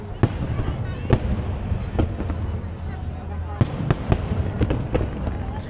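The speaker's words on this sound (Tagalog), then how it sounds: "Ang galing ng pinili nilang ano, ng pinili nilang mga fireworks." Fireworks burst in the Netherlands, a string of sharp separate bangs at uneven intervals over a steady crowd rumble, with people talking nearby.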